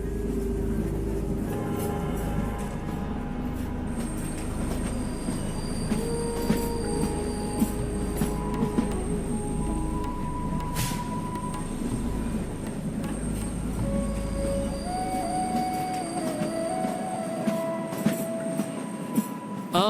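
A train on the Kalka-Shimla Railway in India rumbles steadily close by, with a low rolling drone, scattered metallic squeals and clacks from the wheels throughout, and no talk.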